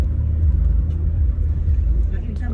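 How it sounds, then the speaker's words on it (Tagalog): Steady low road rumble of passing traffic, mostly motorcycles, on a newly cemented provincial road heading to Kapatagan, continuous and fairly close with no distinct individual pass-bys. "Daming mga sasakyan dito, karamihan itong mga motor"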